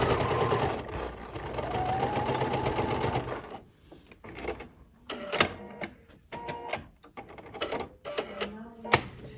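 A sewing machine stitches a quarter-inch seam on a mini charm bag, first running continuously, then in short stop-start bursts of stitching nearby.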